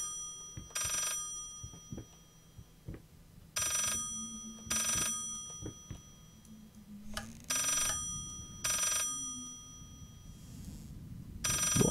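A telephone in the video game Layers of Fear rings in repeated short electronic bursts at a steady rhythm, fairly clear over a quiet background with faint footsteps and rustling.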